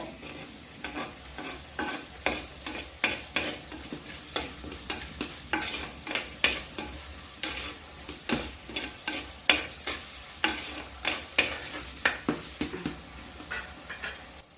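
Garlic and onion being stirred and fried for a sardine curry, a steady soft sizzle under a rhythmic series of spoon scrapes against the pan, close and fairly quiet.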